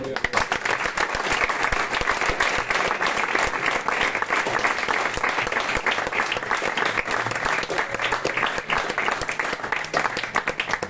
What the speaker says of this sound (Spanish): Y si le puedo aplaudir a él.